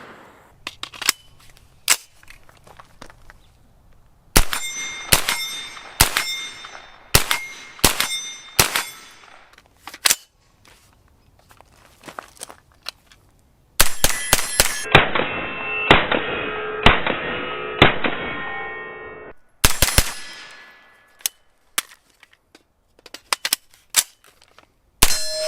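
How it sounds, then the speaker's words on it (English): A 9mm PSA AR-V pistol-caliber carbine fires at steel targets, each sharp crack followed by a bright ringing clang, in single shots and quick strings with short pauses between. "Shoot some more rounds here."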